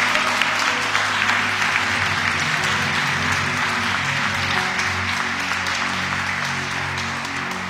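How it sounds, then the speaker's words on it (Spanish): A church congregation claps steadily and loudly throughout a worship service, dense continuous applause with a low hum of voices beneath it. "Denle fuerte el aplauso al Señor."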